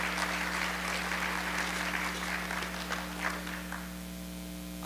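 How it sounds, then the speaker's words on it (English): Conference luncheon audience applauding its lunch speakers at a youth training event, a steady wash of clapping through the room over a constant low electrical hum, fading slightly toward the end. "How about one more big round of applause for all our lunch speakers?"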